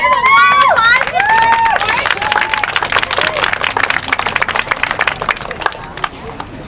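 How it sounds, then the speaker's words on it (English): Crowd applause at a medical freedom rally outside the Oregon State Capitol, loud clapping and cheering with whoops and shouting voices at first, then thinning into scattered claps as the crowd quiets. "let's give a warm applause to"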